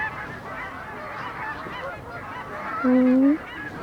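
Ducks being fed bread outdoors, with a steady wash of ambient noise and one clear honking call near the end, fairly close.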